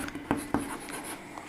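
Pen writing the letter M on paper, a quiet close scratching with a couple of small taps as the strokes begin, no voice.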